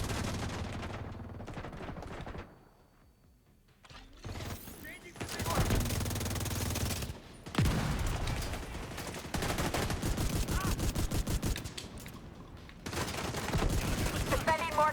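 Video game combat with mortar fire and gunfire: dense bursts of rapid shots and booming blasts that come and go, with a brief lull, loud and close throughout.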